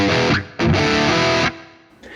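Rock electric guitar through a JCM800-style amp with reverb added, two bursts of gritty distorted chords with a short gap between, then a reverb tail fading out at the end.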